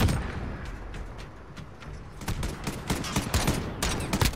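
Rapid gunfire crackles in a Call of Duty: Modern Warfare match, bursts of automatic shots thickening toward the end over a low rumbling background, with no talk.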